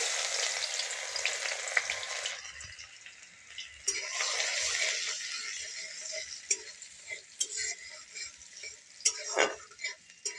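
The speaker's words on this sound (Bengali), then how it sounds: "পেঁয়াজটাকে একটু লাল করে ভেজে নিব" Chopped onion frying in hot oil in a wok gives a steady, close sizzle with scattered clicks and stirring scrapes, easing slightly partway through.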